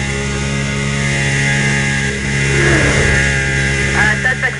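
Green Audi in the video game Need for Speed Undercover, its engine revving steadily and climbing in pitch, loud and continuous throughout, with a faint radio-style voice under it.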